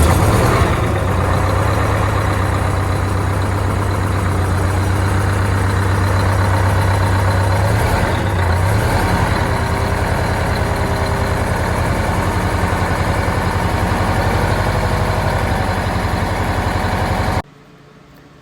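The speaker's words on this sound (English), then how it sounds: "just listening to the engine, I hear a little bit of hissing going on" An 8V-92 diesel truck engine idles steadily and loudly after sitting unstarted for a month, a dense low rumble with a faint exhaust hiss running underneath before cutting off near the end.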